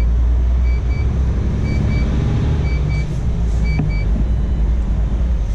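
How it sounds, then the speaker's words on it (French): A Scania truck pulling away from a loading dock, a steady low engine rumble close by with a repeating electronic beep pattern over it, no talk. "c'est lui qui part avec le Scania."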